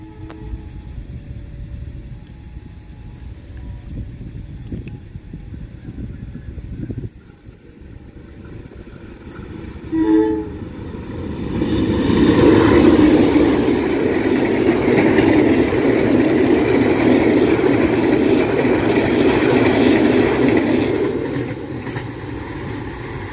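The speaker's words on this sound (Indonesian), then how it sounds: "ini dia kereta api Pasundan sudah lewat di sini" The Pasundan passenger train rumbles past nearby, rising from a quieter start into a sustained loud roar of wheels and carriages with a few brief horn blasts.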